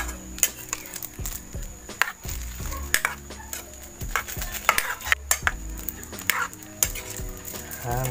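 Papaya atchara mixture being stirred in a pan, with repeated metallic scrapes and clinks of a utensil against the pan in an irregular rhythm, close and fairly loud.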